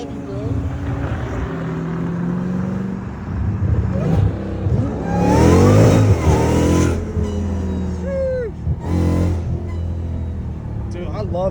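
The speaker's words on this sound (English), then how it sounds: "This car makes hella noise." A catless Dodge Hellcat Redeye revs at night, its exhaust rising to loud, rumbling peaks around the middle, while people talk excitedly over the engine throughout.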